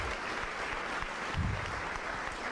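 A closing-ceremony audience at a programming contest applauds sponsor Huawei with continuous, even clapping from a large room, holding at a steady level throughout.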